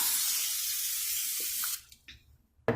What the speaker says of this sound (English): I'm going to spray my oil in this pan here.